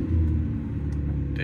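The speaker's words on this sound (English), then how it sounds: "does the start button work? And yeah, let's press in." A Gen 2 Audi R8 engine started by its push start button, giving a close, steady low rumble of the idling engine with a faint click at the end.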